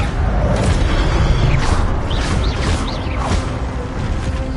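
Spell-casting effects from Levioso in Hogwarts Legacy: a loud rumbling magical whoosh with several quick rising whistle-like chirps layered over a continuous low roar.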